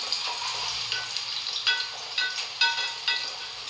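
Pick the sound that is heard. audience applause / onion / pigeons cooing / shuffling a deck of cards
onion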